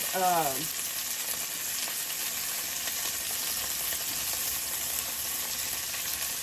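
Sausages sizzle and fry steadily in a pan, a dense, continuous hiss at close range with no talk over it; a short tonal chirp sounds at the very start.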